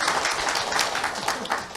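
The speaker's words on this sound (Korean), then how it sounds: "그러면 박수 쳐야 돼요" Seminar audience claps for the lecturer in a hall, a short burst of steady, fairly close applause with no talking over it.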